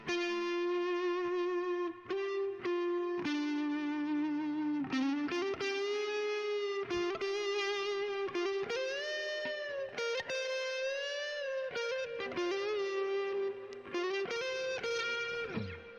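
Jackson Pro Series Soloist electric guitar on the neck pickup with a bluesy, slightly distorted tone, playing a continuous lead line with bends and sustained notes, loud and close, with no talking.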